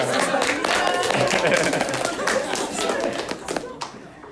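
An audience applauds loudly, with a rush of close, dense clapping and sharp taps. The clapping thins slightly near the end and is mixed with a murmur of voices.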